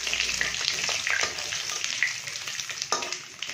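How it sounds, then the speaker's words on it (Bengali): Bay leaves, dried chillies and cumin seeds temper in hot oil with a steady, close crackling sizzle that holds throughout, with occasional sharper pops and spits. "দেখো, গরম মশলা আছে, তেজপাতা, শুকনো লঙ্কা, সাদা জিরে ফোড়ন দিয়ে দিচ্ছি।"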